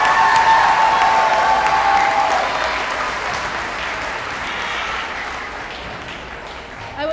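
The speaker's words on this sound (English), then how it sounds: "Let's have one more round of applause." Audience at a school naturalization ceremony for new citizens applauding, a loud burst of dense clapping that gradually fades and thins, with a faint whistle or tone near the start.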